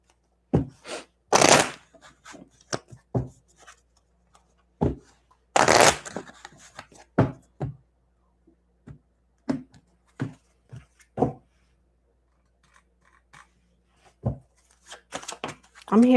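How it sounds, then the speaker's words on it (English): Playing cards are shuffled in several quick riffling bursts, separated by scattered clicks and soft handling noises, close up and fairly loud. "I'm hearing shuffle again."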